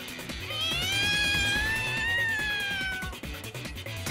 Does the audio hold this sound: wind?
no